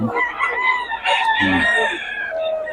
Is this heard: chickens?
yes